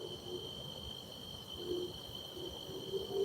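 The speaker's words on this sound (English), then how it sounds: "Got the crickets going." Crickets chirp in a steady, high-pitched drone at night outdoors by a fishing spot, with faint low background noise beneath.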